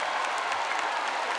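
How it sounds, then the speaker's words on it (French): A brief burst of audience applause at a gathering in Washington, DC, dense and steady from start to finish, with no voices standing out. "Je voulais qu'on applaudisse très fort"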